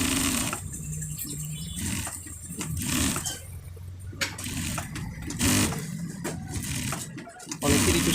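Sewing machine stitching a full panjabi, its motor whirring steadily and close for several seconds with brief changes in pace.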